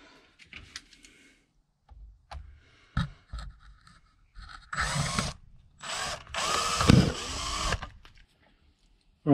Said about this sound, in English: I've tried to drill it, it's hard.